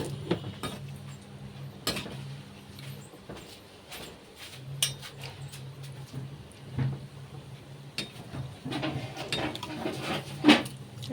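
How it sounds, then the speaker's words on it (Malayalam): Raisins frying in a pan as they brown, with repeated clinks and scrapes of a metal spoon stirring against cookware and a faint sizzle underneath, fairly close and steady throughout. "നമുക്ക് കിസ്മിസും കൂടി നമുക്കൊന്ന് മൂപ്പിച്ചെടുക്കാം"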